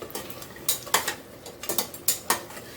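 A spoon stirring mutton rogan josh in a metal pot, a series of sharp clinks and scrapes against the pot in an irregular rhythm, close but fairly quiet with no talk.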